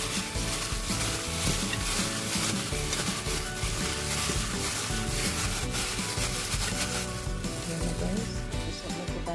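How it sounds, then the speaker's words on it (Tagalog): Hands rubbing coarse salt into raw pork belly for marinating, a continuous loud scratchy rubbing texture with steady rhythm and no talking. "Marinate din po natin ng kaunting asin ang ating pork belly"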